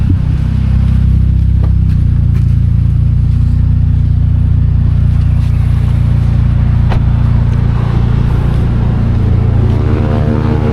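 A turbocharged Mitsubishi Lancer EX with a 4B11 engine cruising, heard from inside as a loud, constant low engine and road drone with no clear revving changes and no speech.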